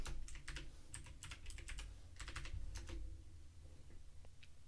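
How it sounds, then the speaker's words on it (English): Someone types on a computer keyboard during a premarket trading stream. Quick bursts of close, light key clicks come in uneven runs, then trail off into a low steady hum near the end, with no talking. "Now let's type it out."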